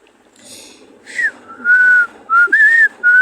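A narrator whistles a short, bright tune in several separate phrases, each note rising and sliding, imitating a boy strolling off whistling; the whistles are close and clear with short pauses between them, and there is no speech.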